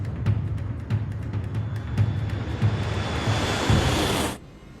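Germanwings 9525 airliner engines spooling at takeoff thrust, a loud steady broadband roar with rhythmic thumps that cuts off abruptly near the end.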